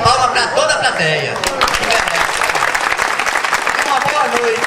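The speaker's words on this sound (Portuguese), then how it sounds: "parabéns agora uma salva de palmas para toda a plateia" An audience in a Brazilian show venue breaks into dense applause after a voice on a microphone, with clapping continuing steadily for several seconds.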